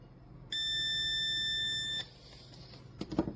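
A TESMEN TM-510 auto-ranging digital multimeter gives one steady, loud continuity beep lasting about one and a half seconds, followed by a few faint clicks and handling noises as the probes are moved.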